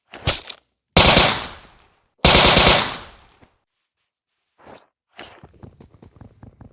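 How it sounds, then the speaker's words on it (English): A minigun, a Gatling gun in a video game, fires in loud, rapid bursts. Two long roaring volleys come up close with short gaps between them, followed by a brief blast and a trailing series of quieter spin-down clicks and shots. "that's the minigun. It's called the Gatling gun for some reason."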